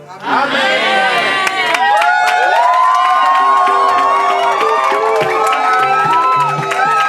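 Wedding guests shout and cheer with joy in a loud, dense crowd roar, whoops and high voices overlapping continuously from start to finish.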